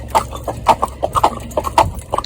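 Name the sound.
horse Cloudy walking, hooves clip-clopping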